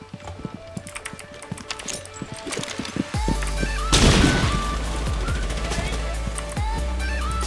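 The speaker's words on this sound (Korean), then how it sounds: "어, 발소리 난다." Footsteps in the Rainbow Six Siege video game tap quickly and fairly clearly, then a heavy rumbling burst and ongoing low game noise take over, with faint talk underneath.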